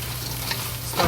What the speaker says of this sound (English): we add fried pork into it, and fried